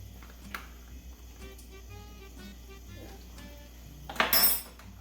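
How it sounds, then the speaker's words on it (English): A spoon stirs dried sage into turkey stuffing in a kitchen, giving faint scraping and light clinks against the bowl, then a louder clattering burst near the end. "So I stirred the sage in"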